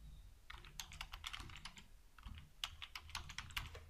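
Fingers type a username on a computer keyboard in quick, irregular bursts of soft, close clicks with brief pauses between them, and no voices.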